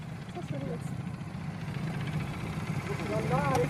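A motorcycle engine ticks over at idle nearby, a low steady putter under people talking, moderately quiet throughout the short stretch.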